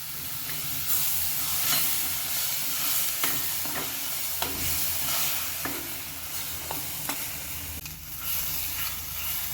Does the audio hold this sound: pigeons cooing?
no